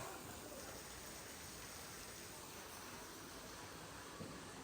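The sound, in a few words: heavy rain falling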